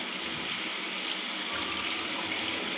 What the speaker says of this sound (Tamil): இப்போ தண்ணியை திறந்து விட்டுருங்க.